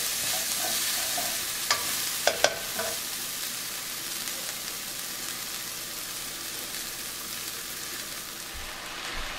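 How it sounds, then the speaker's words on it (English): Onions cook in a hot pan for a Malaysian-style okra dish, giving a steady close sizzle with a few sharp scrapes and clinks of stirring early on. "And just continue to cook till the onions start to soften."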